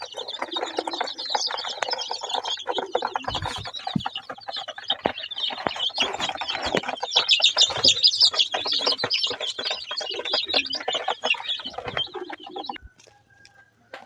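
Native desi chicken chicks clucking and cheeping in a dense, continuous chorus of short calls, close and fairly loud, fading out near the end.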